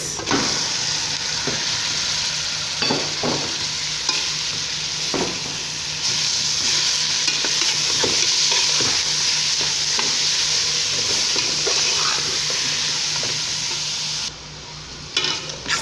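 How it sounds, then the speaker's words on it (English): Meat browning in a frying pan with curry and salt, a steady close sizzle running throughout while a spoon scrapes and stirs in repeated strokes, with no talking. "stir very well until the meat becomes a little bit brown"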